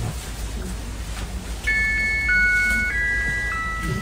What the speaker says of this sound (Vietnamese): Tiếng chuông dễ thương.